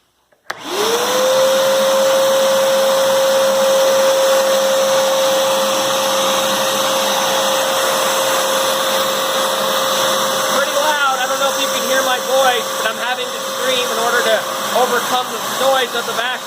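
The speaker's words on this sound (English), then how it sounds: "we'll just fire up the vacuum and then kind of walk around and see how loud it is" A Ridgid NXT wet/dry shop vacuum motor starts up abruptly and runs loud and steady with a constant whine; the tone wavers later as the machine moves around.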